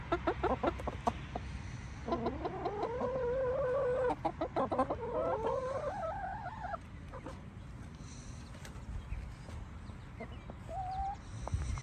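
Young chickens cluck and chirp nearby as they gobble up freshly pulled grass, with a busy run of warbling calls in the middle and scattered pecking taps and softer peeps around them.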